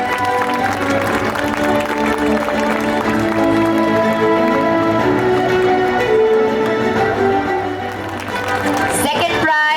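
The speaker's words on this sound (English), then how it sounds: "Let's keep on clapping, parents." Parents applaud at a school prize-giving during a pre-primary school fest and carnival, steady crowd clapping sustained throughout, with a voice and music-like tones running underneath.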